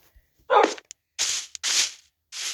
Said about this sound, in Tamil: என்னடா இதுக்குள்ள எல்லாம் நாய் சத்தம் வருது